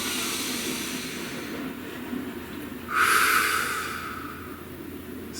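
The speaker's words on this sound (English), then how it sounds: "Please take a nice deep breath." A deep breath with a long, strong inhale swelling and fading over a couple of seconds above a quiet background hum, no speech.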